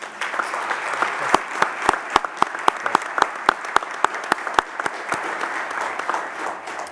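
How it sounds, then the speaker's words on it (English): Press conference audience at a PGA golf tournament claps, sharp distinct hand claps ringing out in a loose rhythm over a softer bed of applause that thins toward the end. "How about another round of applause for James?"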